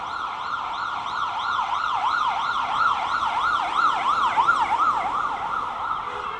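Ambulance siren wailing steadily near Södersjukhuset hospital in Stockholm, its rising and falling tone repeating loudly and continuously with traffic noise beneath, no voices.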